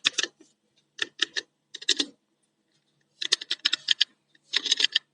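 Bursts of keyboard typing entered as CSS code on a computer, short clusters of crisp key clicks separated by pauses, close and fairly loud with no talking.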